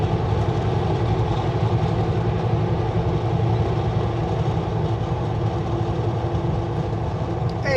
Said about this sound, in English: there's a coal train beside us on the left-hand side. Fully loaded coal headed to the coastline